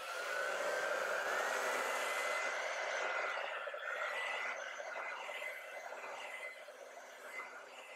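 A hair dryer blows over a wet acrylic painting, a steady close whooshing roar with a faint whine that slowly drops in level toward the end.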